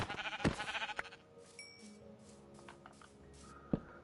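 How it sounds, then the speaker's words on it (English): A sheep bleats a few times in Minecraft, mid-loud, with scattered clicks and soft footstep-like thuds around it. "there's actually a sheep right over there"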